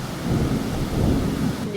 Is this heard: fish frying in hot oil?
no